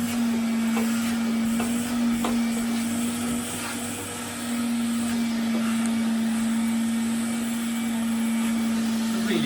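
An old Hoover vacuum cleaner fitted with a crevice tool runs steadily close by, a constant motor hum with a strong fixed tone and airy rushing noise, with slight dips in the suction sound.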